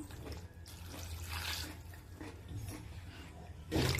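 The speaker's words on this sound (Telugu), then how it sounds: "వాటర్ యాడ్ చేసుకుందాం ఇంకొకసారి" Water runs from a tap into tamarind pulp being prepared for lentil rasam, a steady splashing pour that swells louder near the end, with no talking.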